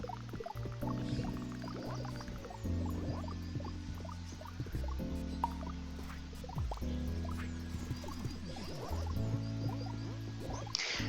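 Water splashes and trickles over freshly planted crops in the game Autonauts, soft dripping and pouring layered over a steady, looping melodic game background.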